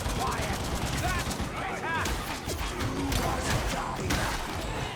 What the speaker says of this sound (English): There's machine gunners over there.